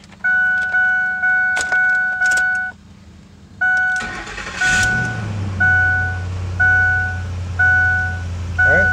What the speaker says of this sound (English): Start it up. Hopefully it'll start.